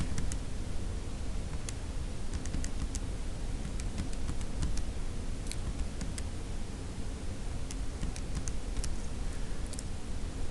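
Calculator keys being tapped to enter numbers for a math problem: sparse, soft clicks in an irregular rhythm, faint beneath a steady hiss.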